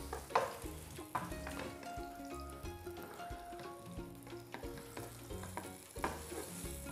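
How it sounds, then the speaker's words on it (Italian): Cubes of pumpkin brown in a hot pan over raised heat, a continuous close sizzle with soft stirring scrapes and utensil knocks, a few louder pops, steady throughout without any speech. "si sta rosolando per bene, quindi in questo caso aumentiamo un po' la fiamma, perché dobbiamo rosolare la zucca"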